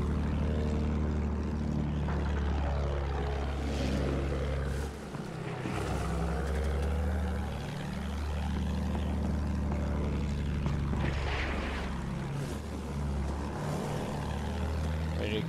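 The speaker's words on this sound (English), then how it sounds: "Friendliest plane in the game." A propeller plane drones steadily in the video game Battlefield 1, a loud, continuous engine hum whose pitch shifts and briefly dips as it manoeuvres, with other game noises layered around it.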